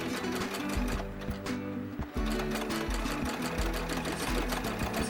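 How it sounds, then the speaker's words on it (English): A sewing machine stitches a curved seam on a small doll corset, running close and loud in rapid rhythmic bursts with a brief pause partway through. "I'm just going to fold that over so that the curve part is at right about 3/8 of an inch, and I'm just going to sew that"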